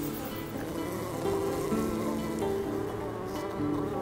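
Honeybees buzzing around hives kept for producing queen bees in Chile, a continuous droning hum with steady tones shifting slightly as insects pass close, with no talking.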